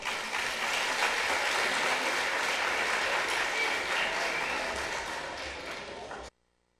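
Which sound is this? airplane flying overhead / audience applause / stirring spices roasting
audience applause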